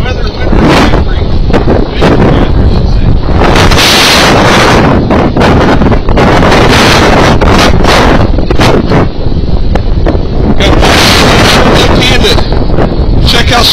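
Outdoor wind buffeting a microphone at an airgun shooting range, loud, continuous rumbling gusts with repeated sharp bursts, and a voice speaking faintly underneath.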